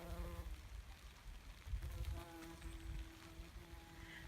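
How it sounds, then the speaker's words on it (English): Bees buzz softly around flowering broccoli in a British home vegetable garden, a low continuous hum mixed with outdoor wind noise, with a steadier drone rising midway through. "The bees are loving the broccoli."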